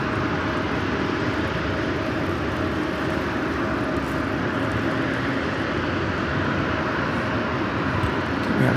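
A Southwest airliner arriving at LAX makes a steady, loud jet engine roar that holds broad and continuous throughout, with no talking.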